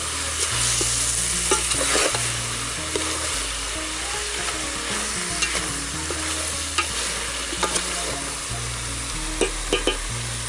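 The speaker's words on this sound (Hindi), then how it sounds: "अब इसमें डालेंगे पिसा हुआ लहसुन, मिक्स करते हुए अच्छे से भूनेंगे।" Pork with crushed garlic is stirred and fried in a village-style pan, giving a continuous close sizzle broken by frequent scraping and clattering stirring strokes.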